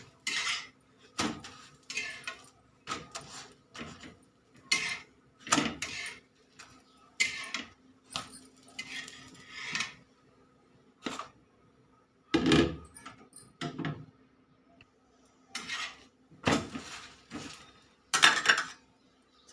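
Chapatis are cooked on a pan with utensils, giving sharp intermittent metallic clinks, taps and scrapes in irregular bursts, with quiet gaps between them and no talking.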